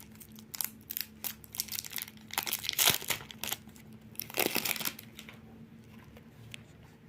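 A crinkly foil wrapper on an American Horror Story trading card pack is tugged, crumpled and torn open in a run of close, sharp rustling bursts, loudest in two spells midway, then fading to light handling.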